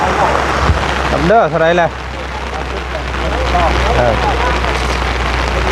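Steady rain hisses down on a yard around a wooden house in Thailand, loud and continuous, while someone talks through it and a brief chirping call rises above.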